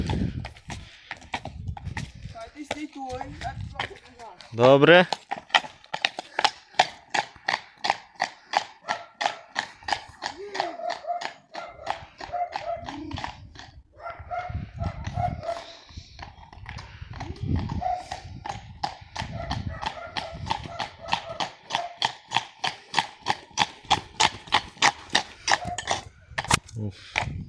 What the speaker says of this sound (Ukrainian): коні.